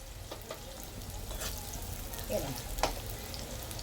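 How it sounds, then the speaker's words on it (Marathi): Chopped onion frying in hot oil in a pot for a village-style mutton curry gives a steady close sizzle and crackle throughout, with a few brief louder pops and scrapes over it. "जर गरम गरम तेल असेल ना त्याला कांदा भाजतो. कांदा मस्त एकदा भाजून घेऊया."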